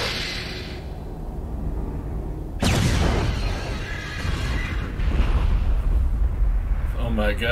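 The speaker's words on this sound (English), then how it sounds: "God, the explosion." A big explosion in the video game BloodRayne suddenly bursts in as a loud, deep boom, then rumbles on and fades over several seconds with a voice talking underneath.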